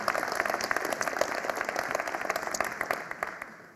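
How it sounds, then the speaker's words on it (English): An audience applauds the dancers at a live event, a dense, even patter of many hands clapping that holds steady and fades slightly toward the end, with no talking over it. "So I think we should all give them a big round of applause"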